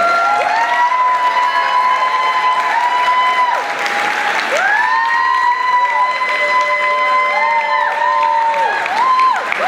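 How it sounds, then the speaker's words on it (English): Thunderous applause and cheering fill a hall as Penny joins the stage at a gala with a silent auction, loud and steady throughout, with sustained musical tones ringing over the crowd noise. "Penny, join us on stage to a thunderous round of applause"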